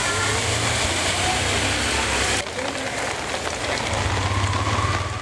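Heavy incessant rain in Sri Lanka's Batticaloa district pours down as a dense, steady hiss, loud and continuous, with a brief dip midway and a low rumble beneath.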